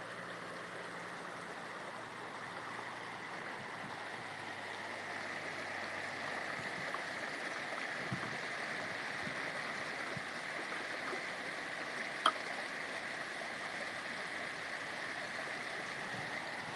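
A steady rush of running water at a canal lock with narrowboats fills the scene, constant and moderately loud, with a faint low engine hum and a sharp knock near the end.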